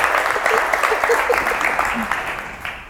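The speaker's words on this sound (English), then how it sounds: "give Roberto a big round of applause and thank him very much for coming" An audience at a Startup Grind Tampa Bay talk gives Roberto Torres of Black & Denim a round of applause. Steady group clapping runs under faint voices and tapers off toward the end.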